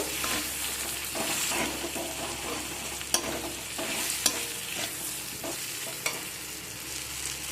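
Chopped tomatoes fry with a steady sizzle in a pan of spiced masala for chicken, a spatula stirring throughout and scraping sharply a few times, with no voices.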